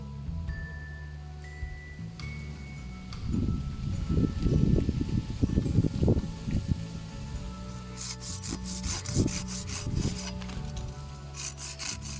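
Intertool HT-3145 handsaw cutting wood: a quiet start, then rhythmic rasping back-and-forth strokes, close and fairly loud, continuing in quicker bursts toward the end.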